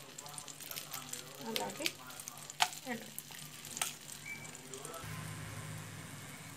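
Bay leaves, cinnamon sticks and cloves fry lightly in melted butter, giving a soft, steady sizzle with occasional stirring clinks, while a voice speaks briefly over it.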